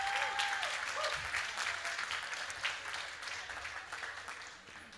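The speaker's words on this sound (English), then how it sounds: "So a big round of applause" Festival audience at the Festival du Bois in BC applauding a volunteer organiser, a steady wash of many hands clapping that gradually fades toward the end.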